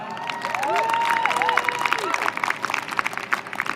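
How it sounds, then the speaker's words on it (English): A group applauds and cheers for John, its dedicated music director and president, with a crowd clapping, whooping and calling out under overlapping voices, the clapping growing denser toward the end. "can we have a round of applause?"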